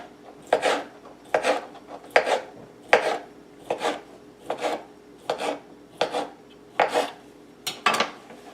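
Knife cutting store-bought Polish kielbasa into half-inch slices on a board, about ten crisp, evenly spaced chops at a steady rhythm, close and clear with no talk.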